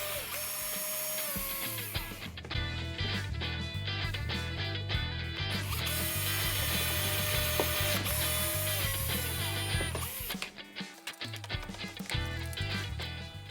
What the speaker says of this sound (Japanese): 木くずを取って ガイド用の細穴を開けます。